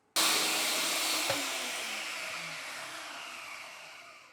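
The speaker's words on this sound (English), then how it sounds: "Now let's get the lid on and let's start blending." A blender starts abruptly and roars loudly, blending kale with olive oil and lemon juice in a broad, steady whir that eases slightly as it runs. No one talks.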